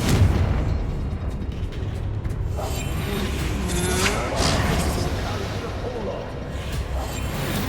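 Confringo fire spells burst in the video game Hogwarts Legacy: loud, booming explosions roll over continuous rumbling battle noise, with a voice talking over the din.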